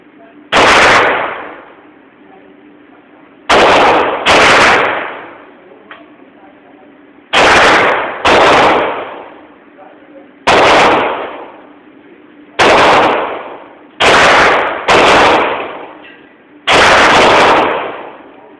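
A Springfield XP9 9mm pistol fires at a splatter target: nine loud, sharp, close shots in irregular bursts, some in quick pairs, each leaving a short ringing tail and quiet gaps between.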